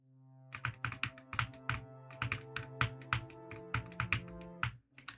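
Crisp, irregular keystrokes clatter on a computer keyboard in a run of quick taps and short pauses, close and fairly quiet, with no voices.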